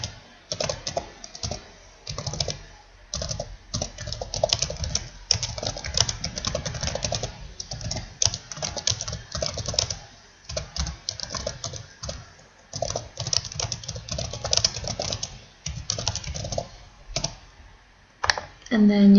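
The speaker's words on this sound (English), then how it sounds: "So here I'm going to type in" Steady clicking of typing on a computer keyboard, close and continuous over nearly twenty seconds, with brief pauses, entering a question into a poll in Adobe Connect.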